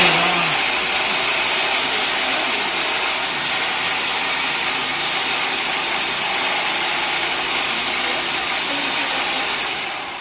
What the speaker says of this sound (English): it's basically a hedge trimmer, up and down. And you turn it on.